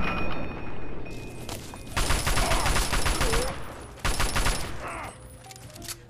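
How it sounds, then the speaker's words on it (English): Rapid gunfire bursts in Fallout 3, in a game fight set in downtown DC, with dense repeated shots over a steady background, loud and close, separated by short lulls. "I'm just shooting blindly at this point."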